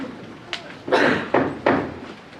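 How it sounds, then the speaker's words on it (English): Several heavy knocks or thuds against a door, one light tap followed by three louder, evenly spaced blows, close by. "It's the door."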